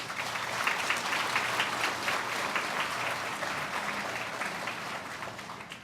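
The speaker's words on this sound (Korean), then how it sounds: "큰 박수로 환영해 주시기 바랍니다" Applause from a church congregation welcoming a pastor to the pulpit at a church dedication service, steady dense clapping filling the room for several seconds with no talk over it.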